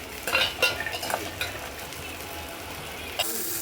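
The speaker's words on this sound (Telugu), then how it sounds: "పచ్చిమిరపకాయలు, ఒక టమాటా వేసి వేయించుకుంటున్నాను." Green chillies and a tomato fry for peanut chutney, with a soft sizzle beneath several scraping stirs and clinks of a utensil against the pan.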